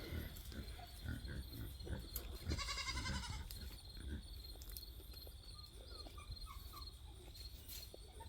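Goats on a farm with a brief bleat-like call near the three-second mark, set against steady insect chirping and light outdoor background noise.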